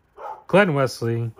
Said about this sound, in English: the dogs are barking for some reason